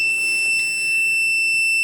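Luminous Optimus inverter overloaded by a heater drawing about 630 watts, giving a continuous high-pitched electronic beep that holds steady and fairly loud with no talk over it.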